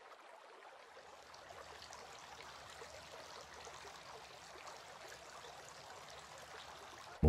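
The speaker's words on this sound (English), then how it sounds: "Washing the hands." Water pours and trickles over hands during ablution washing before prayer, a steady, soft stream that starts after a short silence and flows on continuously with no speech.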